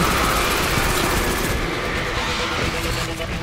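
Enemy gunfire in the video game Destiny 2 rattles in loud, rapid, continuous bursts, dense and close, with a slight easing near the end.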